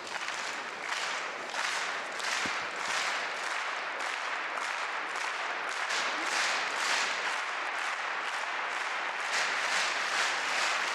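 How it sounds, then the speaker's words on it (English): A table tennis crowd at the 2016 German Open, at the Ma Long vs Samsonov men's singles final, gives sustained rhythmic clapping in unison. The pulsing claps are fairly distant and steady for the whole stretch. "Claps of support, cheering crowd trying to will Samsonov through to take this game"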